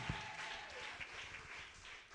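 A church congregation claps and applauds in praise of Jesus, a brief, steady wash of many hands that sounds somewhat distant and soft.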